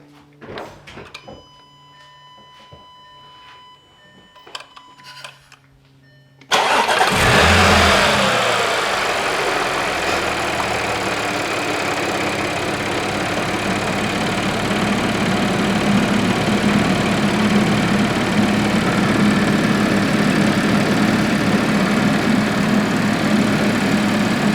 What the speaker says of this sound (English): So go crank it, put the heater on high, let's get it up to temperature